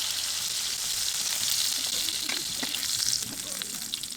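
Poor man's steak patties fry in a hot skillet with a steady, bright sizzle that runs the whole time, broken by a few soft clicks as they are flipped.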